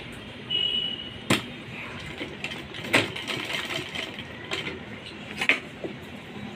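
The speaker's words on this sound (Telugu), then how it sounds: "మలిచేసి దీన్ని ఇలా వస్తుంది మనకు. దీనిని ఇప్పుడు మనం కుట్టేసేసుకోవాలి." Sewing machine stitching a folded cloth hem on Punjabi dress pants, heard in short mechanical bursts with clicks and a light whirring run, moderately close, with no talking.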